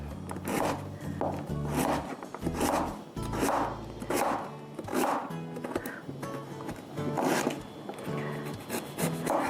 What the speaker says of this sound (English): And then go across to cut it in, let's call it strips.